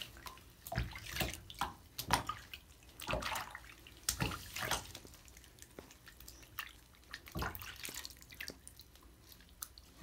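Water splashes and drips irregularly in a tub nearby while a dog is bathed, with sloshing bursts and quieter trickling between them, no voices.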